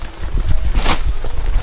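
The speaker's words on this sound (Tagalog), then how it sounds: "Lakas ng hangin, di ba? Simula kahapon." Strong wind gusting outdoors during coconut crafting work, a steady broadband rush with low rumbling buffets against the microphone, loud and continuous with no talk.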